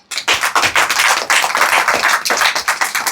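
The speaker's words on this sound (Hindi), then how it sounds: "ताली बजाइए।" An audience at a deliverance prayer meeting in Gumla, Jharkhand claps together in a dense, loud, continuous burst of hand claps with almost no talking.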